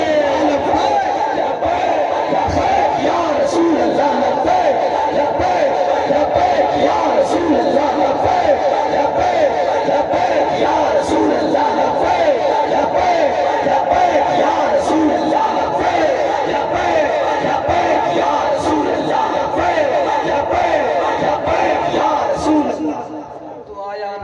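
A large crowd at a religious gathering chants devotional slogans in unison, a loud, dense, continuous roar of many voices sustained throughout, with rhythmic swells, before easing slightly at the very end.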